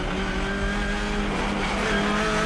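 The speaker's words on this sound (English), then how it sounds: "There's two more cars that went off as well." Race cars roar loudly in a continuous, dense blur of engines during a chaotic moment as cars run off the track, with a hint of tire squeal mixed into the noise.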